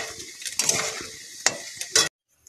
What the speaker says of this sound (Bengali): আর এদিকে আলুটা তো ভালো করে লাল লাল করে ভেজে নিচ্ছি